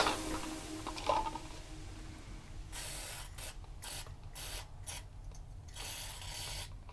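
Electronic cleaner spray bursts onto Commodore 64 connectors and power switch parts in short repeated hissing blasts, several quick sprays with brief gaps, after a stretch of faint handling noise.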